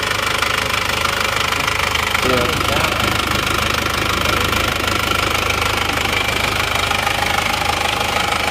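Isuzu Panther diesel engine idling with a knocking fault, a loud, close, steady rough rattle that persists throughout, with voices talking over it.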